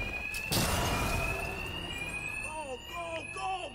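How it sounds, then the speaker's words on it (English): A ringing alarm in Batman: Arkham Knight sounds continuously at a steady pitch after a sharp burst at the start, while someone speaks over it near the end. "Two-Face's thugs won't hear me over the alarm."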